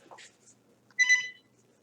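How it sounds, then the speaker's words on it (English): A mobile phone gives a short electronic ring, a brief bright trill that sounds once in a quiet classroom after a faint earlier chirp. "my phone rings"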